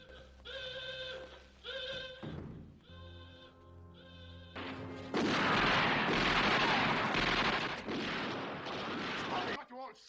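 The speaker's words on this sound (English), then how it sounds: "Got you all shooting at each other." Gunfire from a shootout scene in the 1965 film Thunderball, a loud sustained burst of shots and action noise that follows a quieter stretch of music and voices.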